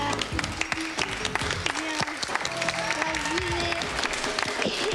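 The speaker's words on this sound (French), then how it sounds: "On les applaudit également." Studio audience applauding contestants on a 1992 French television game show, steady clapping mixed with crowd noise and voices talking over it.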